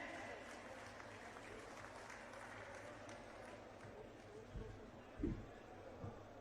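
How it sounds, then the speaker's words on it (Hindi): Crowd applause at a political public meeting in Kaithal, a steady wash of clapping from a large audience with a few louder bursts near the end, heard at a distance without clear speech. "आप लोग भी तालियों के साथ इनका जोरदार स्वागत करें।"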